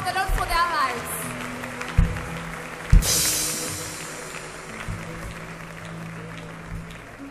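Congregation applauding during a thanksgiving night church service, a broad wash of clapping swelling under a leader's voice and music, with a sharp burst near the middle before settling into steady applause.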